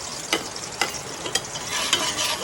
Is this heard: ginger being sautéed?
yes